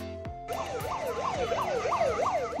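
A police vehicle siren wails, rising and falling in a rapid repeating sweep, loud and close, starting abruptly after a brief low hum.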